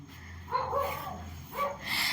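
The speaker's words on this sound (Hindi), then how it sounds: "स्टॉप कर दो कुत्ता बोल रहा है" A dog barks in short bursts during an indoor lecture, a few sharp yelps spaced out over a low steady hum, close and moderately loud.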